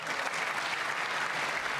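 An audience applauds during a State of the Union speech, a dense, sustained wash of clapping from a large crowd, loud and even throughout.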